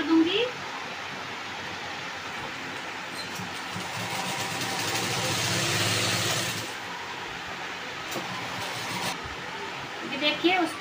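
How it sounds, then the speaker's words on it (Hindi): A sewing machine stitches a cut belt for a party-wear skirt, a broad steady mechanical whir that swells for several seconds in the middle, then eases back, with light handling noise around it. "बेल्ट की कटिंग की थी, उस बेल्ट को मैं पहले यहाँ से सिलाई कर दूंगी"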